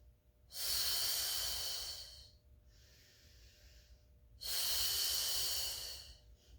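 Two long, loud breaths during a Pilates bridge exercise in a garage gym mat class, each a strong airy hiss of several seconds, separated by a softer, quieter breath.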